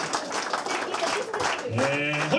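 An audience at a Stockholm comedy contest claps and applauds steadily throughout, a dense wash of hand claps with voices mixed in near the end.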